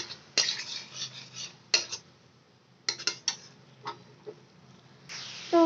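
A spoon stirs a prepared spice masala frying in a pan, giving a few sharp metallic clinks and scrapes separated by quieter gaps, with no talking.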